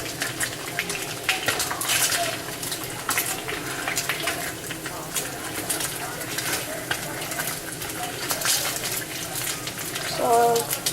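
Bacon frying in a pan at home, a continuous crackling sizzle with scattered pops and stirring scrapes, fairly close, with a brief watery splash near the end.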